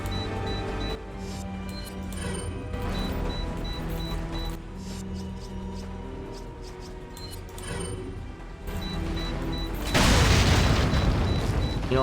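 Bombs explode in Resident Evil 4 as low booms and mechanical clatter sound amid game noise, ending in a loud, sustained blast near the end.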